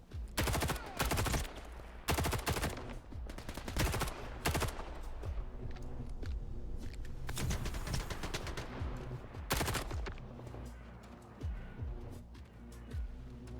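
Loud, dense bursts of automatic gunfire from shooting zombies in the video game Stalker 2, repeated volleys in quick succession with brief pauses between them.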